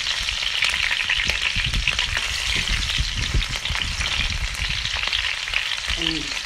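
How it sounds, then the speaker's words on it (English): Chopped onion frying in a pot for Gari Fortor stew, with a steady loud sizzle and the clatter of a spoon stirring throughout, no talk. "Stirring."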